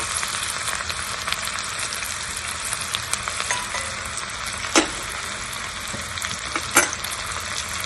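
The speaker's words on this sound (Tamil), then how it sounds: "இப்ப நம்ம கொஞ்சமா சாம்பார் வெங்காயம் ஒரு 5 போட்டா போதும். 2 காஞ்ச மிளகா போட்டுக்கணும்." Shallots and dried red chilies frying in hot oil with mustard seeds for a mixed-vegetable sambar. A steady, close sizzle carries through, with two sharp pops or clinks standing out.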